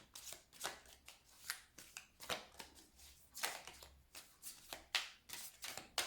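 A tarot deck is cut and shuffled by hand, with quiet, close crisp riffles and card slaps in irregular bursts, no voices.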